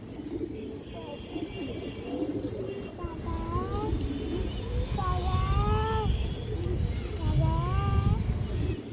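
A large black pigeon coos in a pigeon seller's setting, several rising and falling calls repeated in short bursts over a low rumbling background, close and moderately loud.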